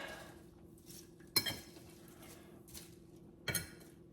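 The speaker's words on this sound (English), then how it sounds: "I'm just gonna stir it so that it can be incorporated" A utensil stirring a salad in a bowl, with soft scraping and two distinct clinks of metal against the dish in a quiet room.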